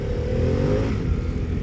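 Harley-Davidson Pan America motorcycle engine running steadily while riding, a loud, close, continuous low rumble with a slight rise in pitch partway through, no voices over it.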